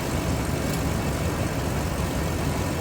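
A first-generation Toyota Tundra truck engine runs steadily nearby, a continuous broadband rumble and whir with no change in pitch, drowning out everything else.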